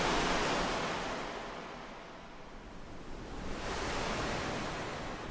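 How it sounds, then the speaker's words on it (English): Wind and rain ambience from the Exoria sound pack played on an iPad, a broad, steady hiss of noise that swells, dips in the middle, and rises again, with no voices. "So a lot of wind and raindrops."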